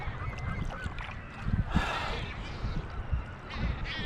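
Wild geese honk outdoors beside clear water, several nasal calls overlapping in a busy flock at mid distance, with a loud burst of honking near the middle and people's breathy exclamations mixed in.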